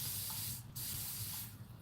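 A handheld spray bottle mists struggling, heat-stressed lettuce plants in an indoor hydroponic grow setup, giving two short hissing bursts about a second apart, close and fairly loud over a steady low hum.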